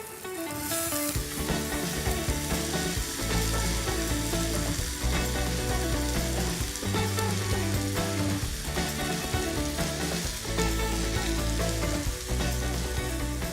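Hokkien noodles stir-fry in a hot pan with Asian greens, a loud, continuous close sizzle punctuated by regular scraping and tossing sounds.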